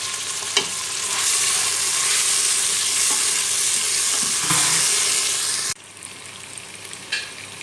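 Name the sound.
garlic frying and sizzling in pan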